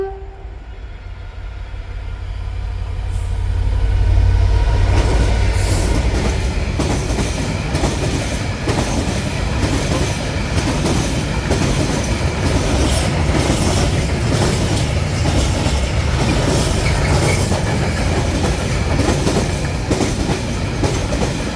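Class 66 freight locomotive 66749 heading south through Northallerton station builds from quiet to a loud, sustained rumble of engine and clattering wagons, with wheel and rail noise continuing close by.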